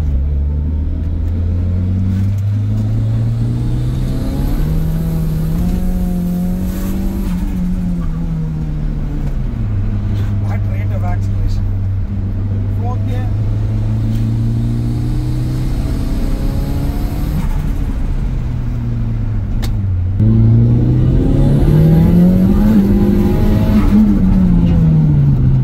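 A turbocharged Suzuki Baleno 1.6L runs through the gears in a steady drone, pulling up and easing off at low revs after a short shift into third, then climbing harder near the end, heard from inside the cabin.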